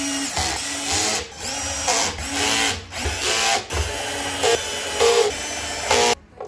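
A cordless drill driver whirs in repeated short bursts at a very low clutch setting, revving and stopping as screws are driven into a Folletto VK150 vacuum shell, loud and close with brief pauses between runs.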